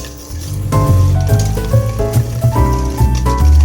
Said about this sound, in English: So I'm just gonna whisk these all together.